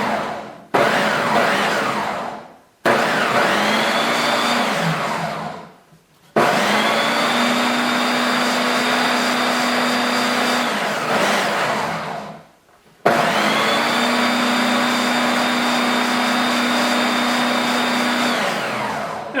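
A food processor whirs loudly in three long bursts, each several seconds, separated by short silent gaps, pulsing chickpeas and garlic into hummus.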